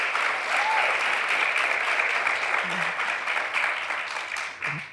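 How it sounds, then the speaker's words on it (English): Sustained audience applause fills the room at an interview event honoring a guest, dense and steady throughout, easing slightly toward the end. "Let's give him a round of applause."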